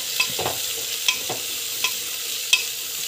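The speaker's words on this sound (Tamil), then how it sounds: "வெஜிடபிள்ஸு எல்லாத்தையும் போட்டு இப்படி ஆட் பண்ணிங்கன்னா நல்லா வந்து வதக்கிட்டாங்க" Mixed vegetables sauté in a pan, a soft continuous sizzle with a few sharp spatula taps and scrapes spaced through it, close and unaccompanied by voices.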